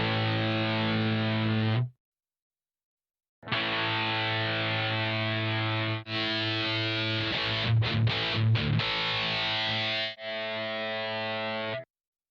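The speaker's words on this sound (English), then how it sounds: "I can change that distortion by turning the value. I get a different distortion effect." Guitar played through distortion on a Mooer PE100 multi-effects unit, sustained fuzzy chords ringing loud and close in several bursts separated by brief silences, the tone shifting slightly between takes, with no talking.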